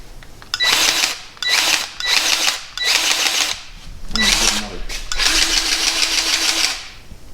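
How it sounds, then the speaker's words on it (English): A Milwaukee cordless powered grease gun, used during a tie rod install on a JL Wrangler, runs in loud, close bursts of motor whir, several short pulses followed by one longer continuous run. "Fancy grease gun. Milwaukee,"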